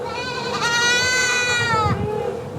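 A pregnant goat at a beginner's farm lets out a single long, wavering bleat close to the microphone, lasting about one and a half seconds before ending in faint rustling.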